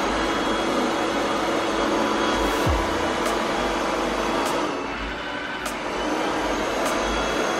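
A Tikom G8000 Pro robot vacuum mop drives under manual control with a steady, loud motor whir and airflow hiss filling the whole stretch, broken by a few faint short ticks.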